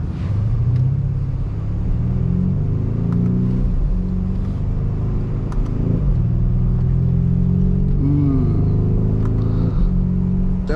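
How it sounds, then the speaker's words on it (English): A Lamborghini Urus in sport mode drones loudly and continuously from the cabin, its deep exhaust tone rising and falling as the throttle changes. "It's louder, definitely louder in sport mode. You can hear the burst and the barbels in the back."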